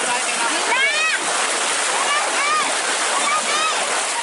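Floodwater from a river overflowing into homes after three hours of rain in Saradan, Madiun, a steady loud rushing wash of water, joined by faint sweeping tones in the background.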